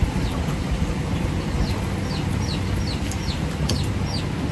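Chickens cluck and chirp repeatedly over a dense, steady background noise, the calls coming in quick, scattered bursts throughout.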